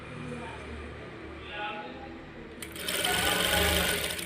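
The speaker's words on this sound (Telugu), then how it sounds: "చూడండి, ఇలా స్టిచ్ అయితే చేసేస్తున్నాను." A sewing machine stitches elastic onto cloth, its motor whirring in a steady, close run that grows louder and busier partway through, with a voice talking quietly in the background.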